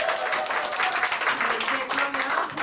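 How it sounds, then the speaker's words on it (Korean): A small group at a business meeting claps together, a brisk continuous patter of applause with voices mixed in underneath throughout the short burst. "박수 한번"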